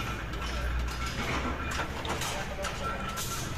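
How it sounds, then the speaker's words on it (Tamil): A press machine folds a metal fan box part in a factory setting. It gives a steady mechanical rumble with faint clicking, heard fairly quietly over continuous background noise. "பார்த்திங்கன்னா ப்ரெஸ் ஆகும்போது வந்து அப்படியே ஃபோல்ட் ஆகிடுது"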